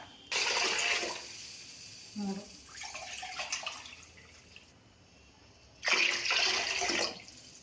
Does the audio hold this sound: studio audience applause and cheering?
no